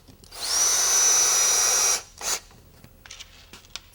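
A power drill drives a screw into a wooden concrete-countertop mold in one loud sustained whine of about a second and a half, followed by a brief second burst and faint handling clicks.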